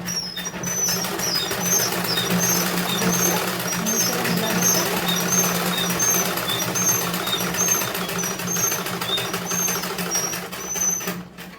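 A sewing machine runs steadily while stitching salwar seams, making a continuous mechanical whir with a fast regular needle rhythm. It stays close and fairly loud for the whole stretch, with no pause.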